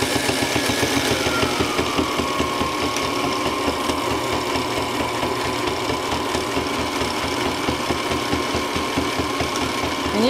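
A Sailrite Ultrafeed LS sewing machine stitches through fabric with a steady, rapid mechanical chatter of the needle and feed, running continuously at an even moderate level with a motor whine underneath, with no talking.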